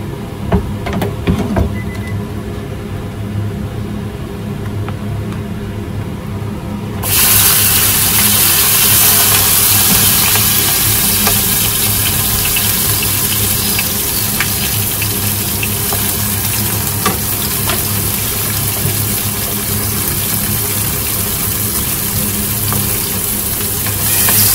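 Garlic and onion fry in oil in a pan as Filipino eggplant adobo begins, a steady close sizzle that jumps much louder and brighter partway through and then holds as a dense hiss.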